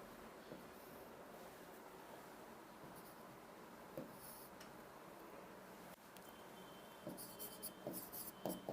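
A pen scratches out an answer option on paper, soft intermittent strokes and taps, faint and close, with a few busier bursts of writing toward the end.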